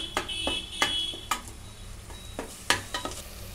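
Mashed carrots and milk cooking down for gajar halwa, with irregular sharp stirring scrapes and clinks over a soft sizzle, plus a steady high beeping tone in the background.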